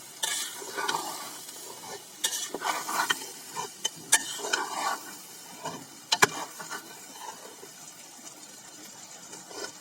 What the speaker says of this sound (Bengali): চাল প্রায় কষানো শেষ।